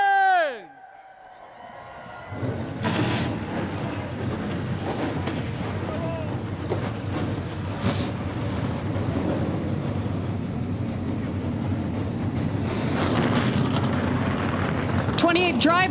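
At the 2023 General Tire 150 at Charlotte Motor Speedway, a field of 28 race cars fires up its engines. A voice briefly calls out first, then a loud, sustained, roaring rumble builds and fills the rest.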